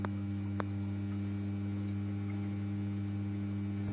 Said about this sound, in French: Voilà, la pompe se met en route.